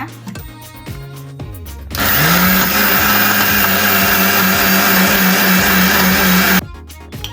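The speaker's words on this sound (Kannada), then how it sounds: "ಕೊತ್ತಂಬರಿ ಬೆಳ್ಳುಳ್ಳಿ ಮೆಣಸು ಬ್ಯಾಡಿಗೆ ಮೆಣಸು ಓಂಕಾಳು ಉಪ್ಪು ಅರಿಶಿನ ಇದೆಲ್ಲ ಹಾಕಿ ರುಬ್ಕೊಳ್ಳೋಣ ಈಗ" An electric mixer grinder runs loud and steady for several seconds while grinding coriander, garlic, chillies, ajwain, salt and turmeric for a cabbage dosa batter, starting and stopping abruptly with quiet moments before and after.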